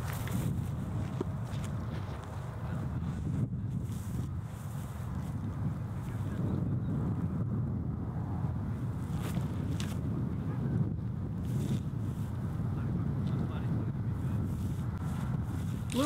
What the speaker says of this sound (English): we do have a little bit of a headwind